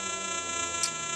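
A metal detector set to maximum sensitivity gives a steady, faint buzzing threshold tone through headphones, a continuous electrical hum with no breaks.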